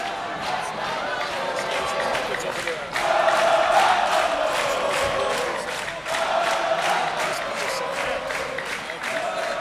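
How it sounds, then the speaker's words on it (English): A crowd at a varsity high school basketball game cheers and shouts in a loud, sustained roar that swells partway through, with scattered claps and voices. "Crowd getting involved here."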